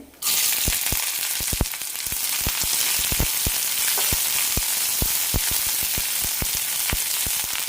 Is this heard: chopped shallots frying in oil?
yes